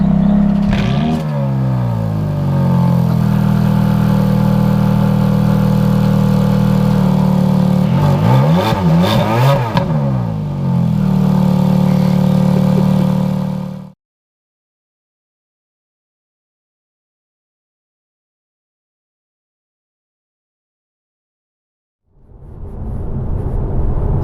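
A Ferrari F430 engine revs hard and settles, loud and close, with rising and falling sweeps, then cuts to silence before restarting briefly near the end.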